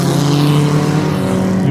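Race cars thunder around the track under green flag in the final race of the year, a continuous loud, close engine roar with layered droning tones and no gaps.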